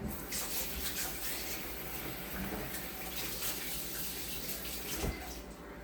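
Running tap water pours steadily as hands are washed at a kitchen sink, a close, continuous splashing hiss with small shifts as the hands move under the stream.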